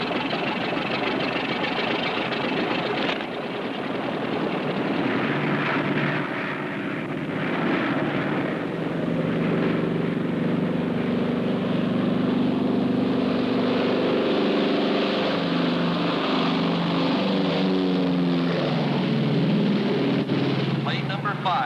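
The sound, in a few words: airplane engines at runway starting line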